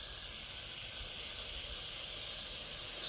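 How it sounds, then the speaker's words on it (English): Aerosol brake cleaner sprayed onto motorcycle clutch retainer bolts, a continuous close, quiet hiss lasting several seconds without pause. "I'm going to hit the bolt with brake cleaner, the retainer bolts"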